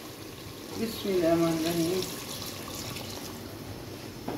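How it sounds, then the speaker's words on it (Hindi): Water poured into a pan of roasted cumin seeds for a green bean dish, a continuous splashing pour running steadily throughout, with a brief spoken word over it near the start. "अब हम इसके अंदर डालेंगे पानी।"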